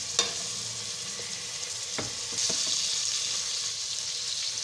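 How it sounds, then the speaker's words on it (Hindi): Steady sizzling and frying hiss of chicken in a pan with spices, with a few clinks of a utensil stirring, fairly close and continuous. "अब हम इसमें चिकन शामिल करेंगे और चिकन को वाइट होने तक भून लेंगे"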